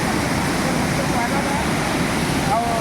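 Barabakhara waterfall pours down in a steady, loud broadband roar of falling water that holds without a break throughout.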